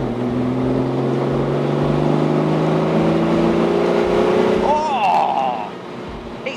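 Deep, steady rumble of the straight-six XK engine in a Triple C Challenger E-Type replica, a Jaguar E-Type copy with power close to a 4.2 E-Type, held at a constant note while a brief whine rises near the end.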